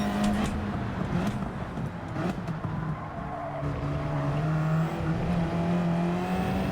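A race car engine in the Gran Turismo video game drones steadily while driving, its pitch rising and shifting as the throttle is worked, loud and continuous with no talking.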